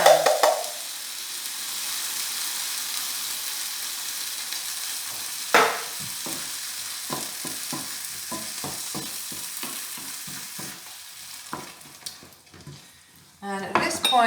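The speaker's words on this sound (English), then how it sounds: "1 tin of tomatoes. Oh, tin of tomatoes. Into the pan." A tin of tomatoes goes into a hot pan for arrabbiata with a sudden loud hiss, followed by quieter sizzling and a run of rhythmic metal clinks and stirring scrapes; a brief voice appears near the end.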